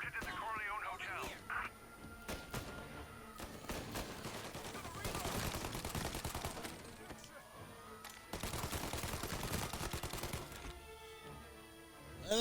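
Tommy gun fire crackles in Mafia Definitive Edition in rapid automatic bursts with pauses between, under game sounds and speech.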